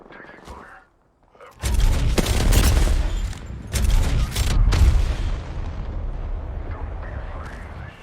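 Dense bursts of gunfire and booming explosions from the video game Apex Legends, loud and sustained across most of the stretch after a brief quiet start, with a player's voice under the battle noise.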